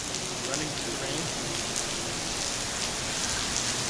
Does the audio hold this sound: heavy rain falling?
yes